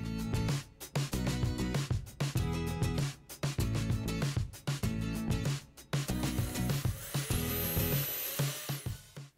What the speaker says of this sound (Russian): Все вот эти шарики засверлю.